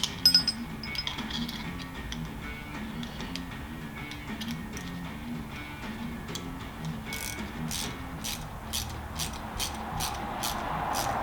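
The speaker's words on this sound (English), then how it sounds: "since I'm using the ratchet, I could have actually just done a quarter turn" A ratchet tightens the LED fog light mounting bolts on a Triumph Scrambler 1200 XE motorcycle. Quick, light clicks come in a run toward the end, close by, over a steady low background hum.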